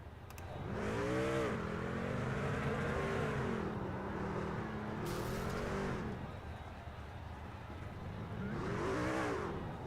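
A race truck in iRacing on a narrow road course, engine roaring in long sustained revs that rise and fall like a burnout, with an alternating pitch across several swells.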